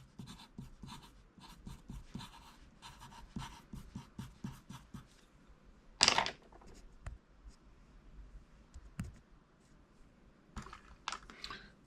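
Paper Mate pencil writing on paper, a soft, steady scratching with short rhythmic strokes close up, broken by a brief louder rustle midway before the scribbling resumes.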